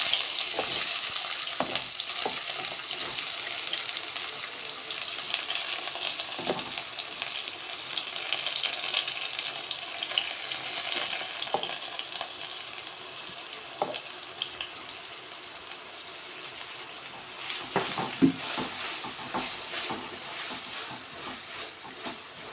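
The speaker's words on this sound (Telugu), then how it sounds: "ఆయిల్ అయితే వేడెక్కుతుంది ఇప్పుడైతే కట్ చేసుకున్న ఉల్లిగడ్డలు వేసుకుంటాను" Chopped onions frying in hot oil give off a continuous crackling sizzle, with occasional clicks and scrapes of a spatula against the pan.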